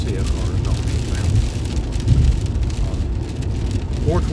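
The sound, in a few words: heavy rain falling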